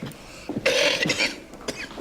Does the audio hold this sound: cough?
yes